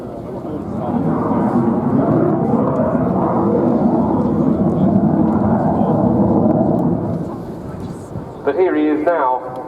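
A French Air Force Dassault Rafale C jet fighter flies its display at the RIAT 2016 air show, a broad, rumbling roar that swells and holds, then drops away as a commentator's amplified voice comes in near the end.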